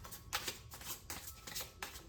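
Crisp riffling bursts of an oracle card deck being shuffled, repeated several times in quick succession, close and fairly quiet.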